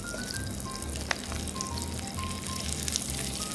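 Salmon brushed with a balsamic glaze cooks in a pan with a steady, soft sizzle and crackle, moderately close, with a brief sharp tick partway through and no talking.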